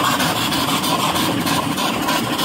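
A steam donkey engine runs slowly and steadily, a close, continuous mechanical chuffing and rumble with a faint rhythmic pulse and no talk.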